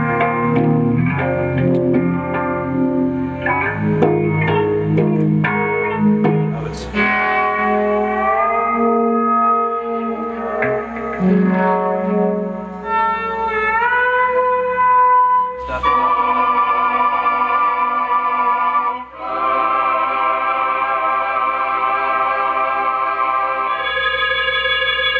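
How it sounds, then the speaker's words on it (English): Struck metallic tones, like a mallet on bells, ring out through a heavy echo and reverb effect, smearing into long shimmering, shifting sustained notes that swell and fade in turn, with no voices. "Make everything echo and sound like it's in a different place."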